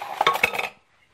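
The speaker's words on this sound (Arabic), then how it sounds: "وتقلب كويس" Ghee being stirred into flour for basbousa in a bowl, a brief burst of clinking and scraping spoon strokes lasting under a second, then quiet.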